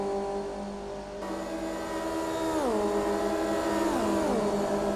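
Race cars in a WCS GP race at Indianapolis drive through the final corner, engines whining steadily then dropping in pitch as they lift and shift, with a second car following close behind.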